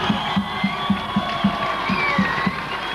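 A crowd cheers and applauds at a school rugby cup presentation, with a continuous roar of shouting voices and a rhythmic beat of clapping or stamping running underneath at moderate loudness.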